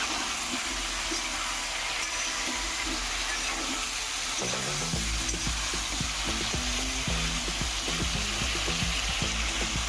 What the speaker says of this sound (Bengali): এখন আমগুলা তেলের মধ্যে ভেজে নিব। আমটা দিয়ে দিতেছি। ভালোভাবে নাড়াচাড়া দিয়ে নেব।